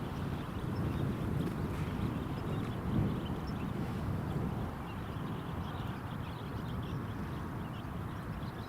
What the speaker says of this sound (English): It's quite windy here today at Newcastle, quite breezy